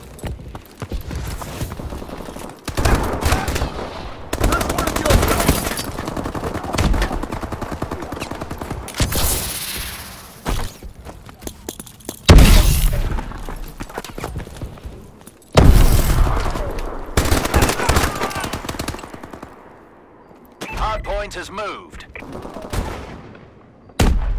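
Gunfire in Call of Duty: Advanced Warfare: loud, rapid bursts of automatic fire and sharp single shots come in clusters, with booming impacts and brief quieter gaps between exchanges.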